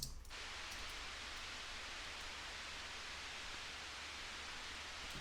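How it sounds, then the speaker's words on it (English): A steady wash of hissing broadband white noise sidechained to the kick in a piano house track, faint and even, like static filling the background, with no other sounds or voices. "Just plain pure noise sidechained with the kick just to kind of fill the space a little bit more"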